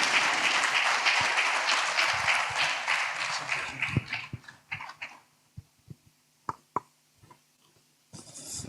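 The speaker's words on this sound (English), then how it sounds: "Please, another round of applause for His Excellency, the Governor of Rivers State." An audience claps for the state governor at a workshop opening in Rivers State, Nigeria. Full applause thins after a few seconds into scattered individual claps, then a final short burst.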